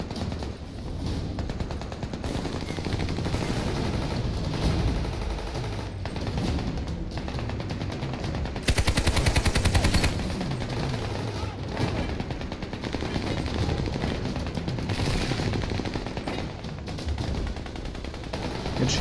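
Mounted machine gun in the video game Army of Two fires in sustained rattling bursts, dense and loud throughout, with a sharper, heavier stretch partway through and game noise layered underneath.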